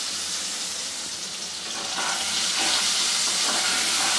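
Cut potatoes frying in a pan with turmeric and salt, giving a steady, close hiss of sizzling oil that swells louder about halfway through and then holds.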